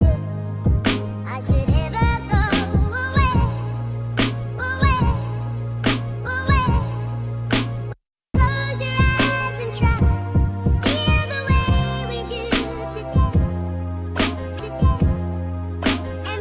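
Programmed drum loop built on a four-bar pattern with an extra bar squeezed in, punchy kick and snare hits locked to a melodic sample, steady and loud, with a brief dropout near the middle before the groove resumes.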